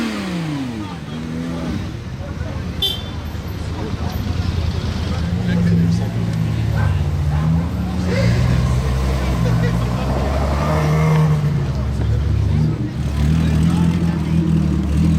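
A Bentley Supersports with a W12 engine rumbles and revs nearby, its deep rising and falling growl swelling through the middle stretch, while people talk over it throughout.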